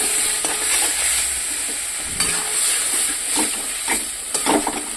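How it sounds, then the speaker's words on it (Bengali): Turmeric is stirred into a frying ginger, garlic and chilli masala, with a steady close sizzle throughout and a few scraping stirs of a spoon through the pan, no voices over it. "হলুদটা এখন আমি মশলার মধ্যে দিয়ে দেব।"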